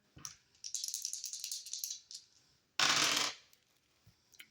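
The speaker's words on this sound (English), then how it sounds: "rolling the dice to see what I need to shuffle the deck to" Dice clatter and rattle across a hard surface in a quick burst, then a second louder roll tumbles briefly before settling; no talking.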